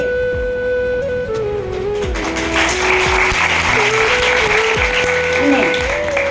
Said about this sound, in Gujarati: સાંભળો અને તાળીના તાલ આપો